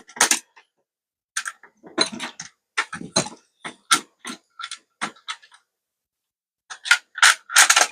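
Plastic shell halves of a Nerf blaster being pressed and sandwiched together by hand, producing a string of sharp close clicks and snaps in irregular bursts with short pauses between them.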